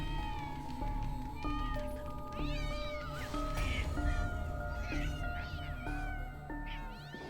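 Several cats meowing and caterwauling in a TV show scene, overlapping drawn-out calls rising and falling over a steady music background, with no talk.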